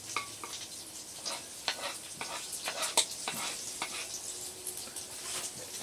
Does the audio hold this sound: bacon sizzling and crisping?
yes